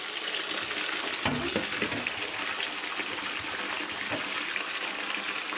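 Running water gushes steadily from a tap while green onions, home-grown for kimchi, are washed and rinsed, with splashing and rubbing sounds of the stalks throughout; no talking.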